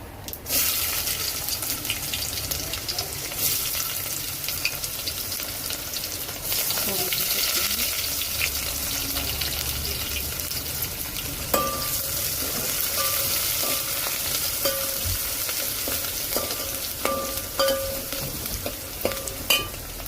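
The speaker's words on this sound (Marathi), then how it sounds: "कांदा लाल होईपर्यंत परतून घेऊ." Chopped onion frying with cumin seeds in a pan for a spicy chicken curry, a continuous hissing sizzle with occasional scrapes and clinks of stirring, close and steady with no talk.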